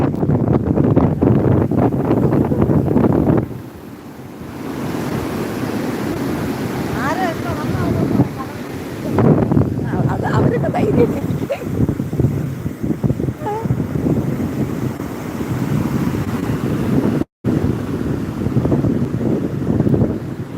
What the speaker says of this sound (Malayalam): സൂക്ഷിച്ചേ ദാ ദാ വലിയ തിരമാല വരെയാണ്